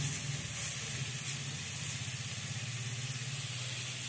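Cauliflower and potato frying in a pan give off a constant close sizzling hiss with no breaks and no voices.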